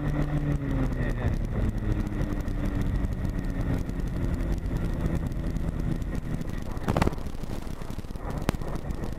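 A weight-shift aircraft trike's engine drones steadily on the runway, a continuous loud rumble with wind noise, broken by a couple of sharp knocks near the end.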